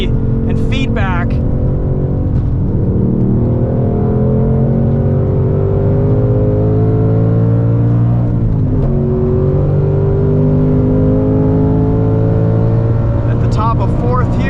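A 2024 Ford Mustang Dark Horse with a Tremec manual gearbox roars at full throttle on a race track, its engine note climbing steadily through the gears with a brief dip at a shift, loud and continuous from inside the car, with a driver talking over it.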